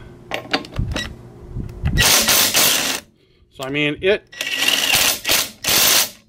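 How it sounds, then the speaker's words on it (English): A power ratchet fitted with a 3/4 socket zips a lug nut in a workshop, giving several loud, buzzy whirring bursts separated by brief pauses, with someone talking briefly between them. "and we'll zip a lug nut here"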